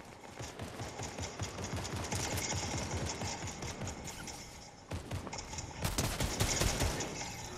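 A gun fires in Fortnite as rapid, steady automatic bursts, a dense clattering rattle that runs on for several seconds. A louder, sharper burst follows after a short break, with faint voices now and then.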